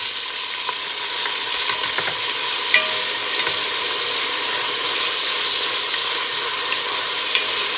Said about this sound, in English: I'm gonna let this saute for about 2 minutes